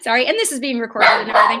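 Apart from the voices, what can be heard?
dog barking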